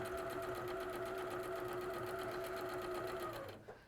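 Sewing machine stitching cotton quilt fabric, a steady fast whirring hum with a rapid needle rhythm that runs unbroken for several seconds and then stops, close and clear, with no talk.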